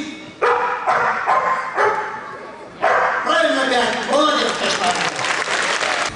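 Trained circus dogs perform a counting act on stage at a large travelling circus. They give a series of sharp barks at a steady pace amid audience applause and a voice in a large hall.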